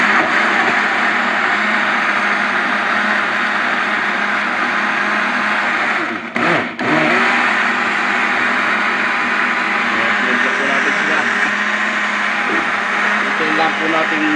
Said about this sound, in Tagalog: Blender na natin.